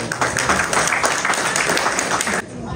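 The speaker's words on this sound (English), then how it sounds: "Please, can we give him a round of applause for this?" Guests at a surprise 50th birthday party applaud, a dense, steady clatter of clapping that runs loud for over two seconds and then cuts off abruptly.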